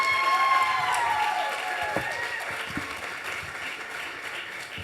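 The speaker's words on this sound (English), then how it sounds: "Can we give a giant round of applause to Ken Pozek?" An audience at a real estate masterclass panel applauds and cheers, a dense crowd roar with whoops and a whistle-like tone early on, fading gradually over a few seconds.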